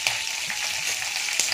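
Tadka of curry leaves and asafoetida frying in oil in a pan, a steady close crackling sizzle with faint stirring clicks throughout.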